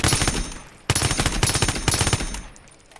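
Loud, rapid bursts of automatic gunfire in the video game OutlawZ, in quick succession, sharp and close, with a brief gap between volleys before fading out.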